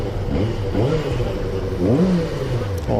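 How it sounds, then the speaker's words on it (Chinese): A 2022 Qjmotor 600RR sport motorcycle's exhaust revs up close and loud, its engine note rising and falling in a couple of throttle blips over a steady idle rumble. "排气管声音好听得多。"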